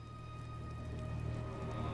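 Rain in the video game God of War, a steady moderate patter of drops over a low constant hum, with no speech.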